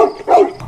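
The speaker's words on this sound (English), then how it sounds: "Hearing the dog barking, Jenna, Ian, and Renee immediately shout for" A single short dog bark, close and loud, with a brief second yelp right after it.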